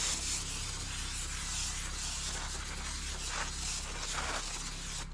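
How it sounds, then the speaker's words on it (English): Aerosol brake cleaner sprayed onto the clutch pressure plate of an International 500C dozer's steering clutch, a soft continuous hiss with a few slightly stronger bursts, faint and close. "make sure you give it a good spray"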